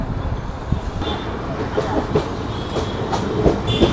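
Kanchanjanga Express 13173 running after leaving Dakshineswar station, heard from inside the coach as a loud steady rumble with rhythmic clickety-clack of wheels over rail joints and faint squeals.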